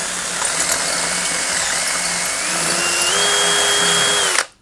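A drill bores out a broken exhaust bolt hole on a 1976 Honda Elsinore MR175 motorcycle, whining steadily and close. Its pitch climbs in steps as it runs, then it stops abruptly near the end.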